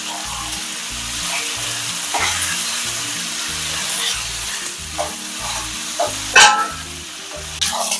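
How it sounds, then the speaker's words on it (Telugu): Chicken sizzles loudly in a pan with ginger garlic paste and onions, a steady close frying hiss broken by occasional stirring clatter and louder pops. "ఇప్పుడు ఇలా వేగుతుంది కదండి"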